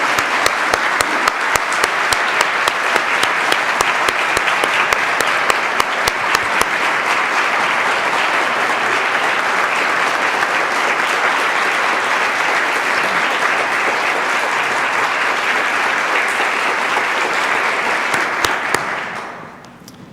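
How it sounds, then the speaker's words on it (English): A church congregation applauds at a parish annual meeting, a full sustained round of clapping that fills the room for about twenty seconds before fading out at the end. "ask that we all give them a round of applause for the wonderful job they do for us."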